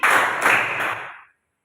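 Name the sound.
classroom rhythmic clapping game, red-yellow clap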